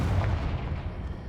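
Confringo fire spell cast in the Hogwarts Legacy video game, a dense, loud, booming blast with a rumbling low end lasting just over a second.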